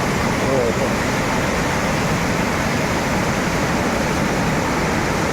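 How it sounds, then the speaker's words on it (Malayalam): A waterfall near Moolamattom roars with a dense, steady rush of water, loud and unbroken throughout. "അനൂര് വെള്ളച്ചാട്ടം വലിയ വെള്ളച്ചാട്ടം"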